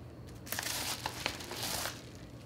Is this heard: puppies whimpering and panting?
no